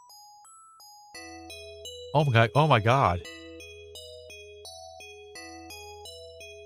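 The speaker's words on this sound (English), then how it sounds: "this bell sounds very piercing" Harsh, piercing electronic bell chime in the Phantasy Star IV game on Genesis, a loud ringing burst of about one second amid chiptune music, with a voice exclaiming over it.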